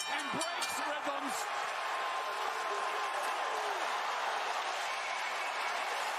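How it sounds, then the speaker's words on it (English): A large arena crowd at a Cleveland boxing match, Jake Paul versus Tyron Woodley, cheering and applauding in a dense, steady roar heard at a distance while a commentator talks over it. "What a crowd. What an atmosphere here in Cleveland."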